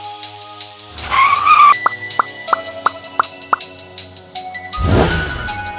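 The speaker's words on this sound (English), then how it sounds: "our driver shown here gets rear-ended after coming to a stop in traffic" A car is rear-ended after stopping in Brooklyn traffic on the BQE: a tire skid is followed by a quick run of sharp knocks, then a loud broadband crash near the end over steady road noise.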